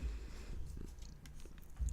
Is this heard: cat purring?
yes